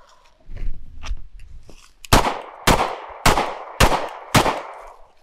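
Five sharp pistol shots ring out at roughly even intervals at an outdoor shooting range as the shooter moves, preceded by footsteps and shuffling, each report loud and close with a short decay.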